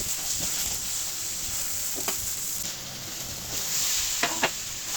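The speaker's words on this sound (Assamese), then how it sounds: "ঔটেঙাখিনি অলপ সময় ভাজি" Elephant apple (ou tenga) slices fry in a pan, giving a soft, steady sizzle with a few sharp spatula scrapes and clicks close by.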